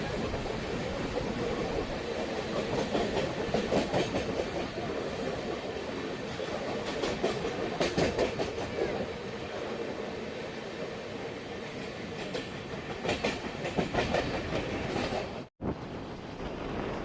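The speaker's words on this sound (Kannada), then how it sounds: "Tumakuru Chamarajanagar passenger train Yeshwanthpur A ಕ್ಯಾಬಿನಲ್ಲಿ crossing ಆಗ್ತಿದೆ" A Tumkur–Chamarajanagar passenger train crosses at Yeshwantpur A cabin with a continuous loud rumble and rhythmic clickety-clack of wheels over rail joints, heard from close by with wind buffeting, then a brief dropout near the end.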